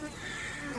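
Flies buzz around a zebra carcass on the African savanna, a dense, continuous droning whine close by, with a faint voice underneath.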